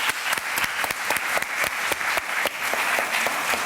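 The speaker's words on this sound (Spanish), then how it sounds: "le damos un aplauso a Alex, por favor" Audience applause for a speaker at an urban sustainability forum, many hands clapping in a steady, fairly even patter with crisp individual claps, sustained at moderate distance without talk.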